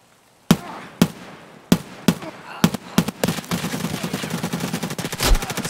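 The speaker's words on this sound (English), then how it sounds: "Wait, somebody just shot over here." Gunfire in the shooter game Escape From Tarkov: a series of loud, sharp single shots spaced about half a second apart, then rapid bursts blending into sustained firing with a heavy boom near the end.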